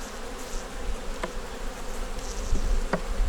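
A dense, steady hum of honeybees buzzing around their hive, close and continuous, with a few louder individual bees passing near.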